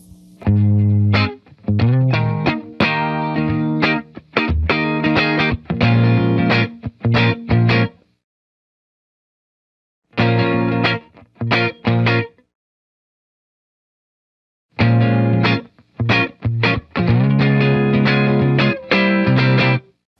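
Heavily distorted electric guitar chords and riffs through a cranked Vox AC15 tube amp on its top boost channel, loud and saturated, played in bursts with two silent gaps between phrases.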